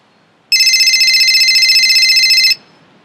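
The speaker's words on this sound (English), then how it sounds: "It's the phone." A telephone rings loudly with a bright, rapid trilling bell tone that starts abruptly, holds steady for about two seconds and cuts off, alone over a quiet room with no talking.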